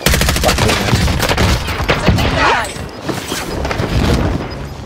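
Video game gunfire erupts in a dense, loud fusillade of rapid shots and booms, with bursts layered close together before thinning out near the end.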